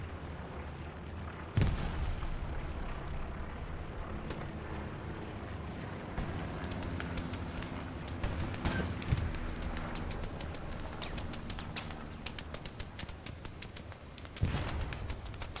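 Gunfire in Hell Let Loose, the World War II shooter, on the Kursk map: sharp, loud single shots and rapid bursts cracking over a constant rumble of wind and distant vehicles.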